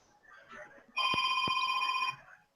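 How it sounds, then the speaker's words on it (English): A telephone rings once with an incoming call, a steady electronic bell tone lasting about a second, fairly loud and clear over quiet background murmur. "Well, shit. Phone call. Be right back."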